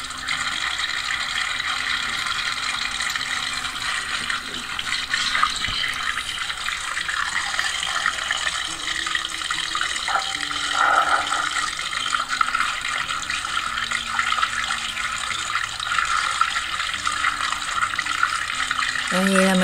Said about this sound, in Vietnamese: Vậy là mình chỉ rửa sạch với cái vòi nước nữa thôi.